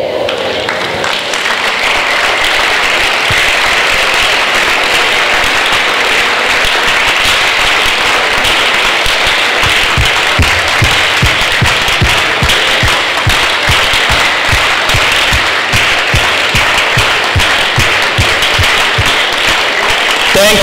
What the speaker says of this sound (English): Thank you so much for clapping for him and for standing up for him